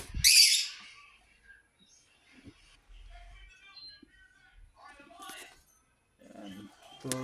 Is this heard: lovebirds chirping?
yes